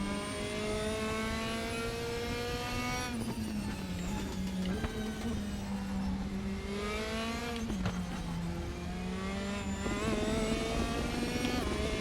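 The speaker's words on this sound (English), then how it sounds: "Like the sound of the Mercedes." Mercedes race car engine in the RaceRoom racing game, a steady droning whine that rises and falls through gear changes, continuous and fairly quiet with no talking.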